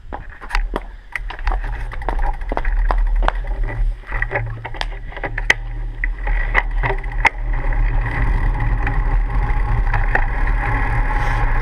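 Wind buffeting a GoPro Hero 3 mounted on a moving bike, a steady loud rumble with rattling clicks and knocks from the ride throughout.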